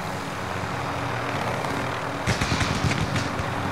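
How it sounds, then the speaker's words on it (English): Helicopter in an online battle royale game, a continuous droning rotor and engine roar at steady loudness, with a burst of rattling impacts toward the end. "Oh, you got a chopper too."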